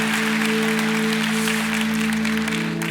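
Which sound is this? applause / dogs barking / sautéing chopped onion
applause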